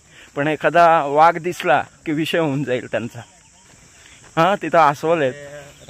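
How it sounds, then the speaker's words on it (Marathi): Crickets chirp in dense forest near Vasota Fort, a steady high-pitched trill running continuously beneath people talking. "रातकिड्यांचे आवाज येतात. किर किर किर."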